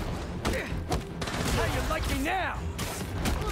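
Gunfire bursts and thuds from the video game Marvel's Spider-Man 2 crackle in quick volleys, with swooping effects underneath and a player talking over the action.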